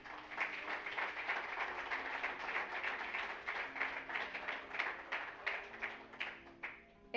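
A church congregation in Panama applauds during a sermon, a steady patter of many hands with individual sharp claps standing out, fairly quiet and distant, lasting several seconds and tapering at the end.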